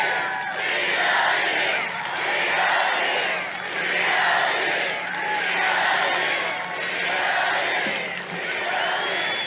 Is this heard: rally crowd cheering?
yes